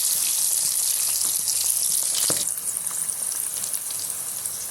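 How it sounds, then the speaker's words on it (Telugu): Bitter gourd slices fry in a pan with a loud, close hiss of sizzling oil that eases a little partway through and carries on without speech. "రెండో వైపు కూడా మనకి మంచిగా వేగిపోవాలి"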